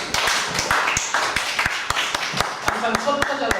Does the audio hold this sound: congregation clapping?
yes